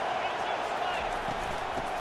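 Stadium crowd in College Football 25 at a Wisconsin versus Tennessee game: a steady, dense roar of many voices filling the whole stretch, with a voice mixed in.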